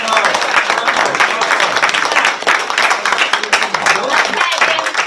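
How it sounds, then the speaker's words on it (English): Sustained audience applause at a live book reading, dense steady clapping from a crowd filling the whole stretch, loud and close with a brief dip near the end. "One more time, a round of applause for our great"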